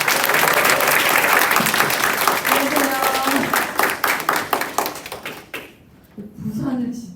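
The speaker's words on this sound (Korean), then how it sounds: "큰 박수." An audience at an insurance company seminar in Busan claps loudly for an introduced speaker; dense applause fades out near the end as a voice begins speaking.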